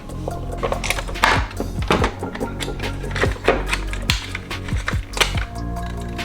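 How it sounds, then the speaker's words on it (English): Small screws being removed from a car side mirror housing during a power-folding mirror install, close, busy clicks, rattles and tool noises in an irregular clattering stream. "Now we're gonna unscrew this. So I'm gonna move this wire. These 4 small screws."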